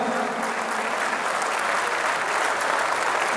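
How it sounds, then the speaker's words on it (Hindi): Sustained, thick applause rises from the audience at an international Urdu poetry mushaira in Muscat, Oman, a continuous wash of many hands clapping at a constant, fairly loud level. "जोरदार तालियां बजाइए"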